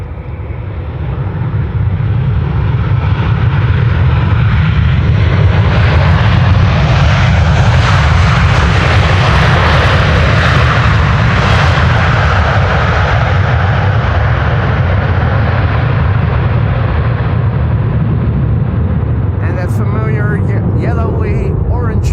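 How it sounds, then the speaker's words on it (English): A Delta Airlines Airbus A330neo arriving at Amsterdam Schiphol Airport makes a loud, steady roar that swells and stays strong for about twenty seconds. "This is Delta Airlines Flight 90, arriving from Orlando, Florida, A330neo."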